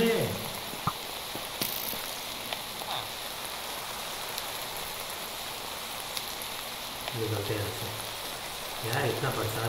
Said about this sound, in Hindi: तो क्या तो इतनी बरसात हो रही है ना